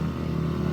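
Yamaha Nmax scooter engine straining as it climbs a hill, a steady close droning motor tone held throughout without breaks.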